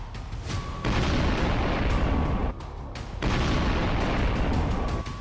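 Heavy 155 mm artillery shells strike tanks hidden in bushes near power lines, producing two long, loud rumbling blasts separated by a brief lull, dense and booming with sustained roaring decay.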